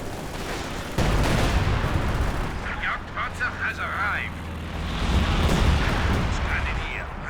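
Heavy howitzer artillery fire in a Company of Heroes 2 match, with booming low blasts rolling through a dense battlefield din of explosions and gunfire, loud throughout, as someone talks over it.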